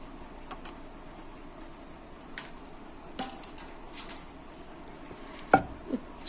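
Onion pounded coarsely in a stone mortar for a village-style peanut chutney, scattered soft thuds and crunchy knocks at irregular intervals, close but fairly quiet over a low background hiss.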